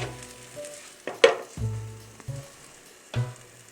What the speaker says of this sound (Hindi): दूसरी साइड को भी पकते हुए तकरीबन 1 मिनट हो चुका है हमारा।